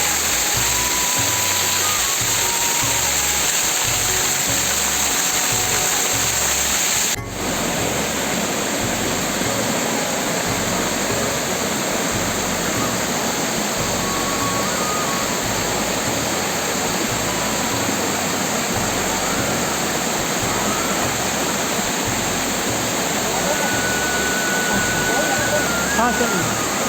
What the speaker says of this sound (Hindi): ए औरा पानी के झरना ह बहुत सुंदर है।